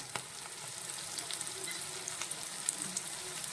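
Tomatoes with turmeric powder sauté in a hot pan, giving a steady, close sizzle and crackle with small pops throughout and no voices.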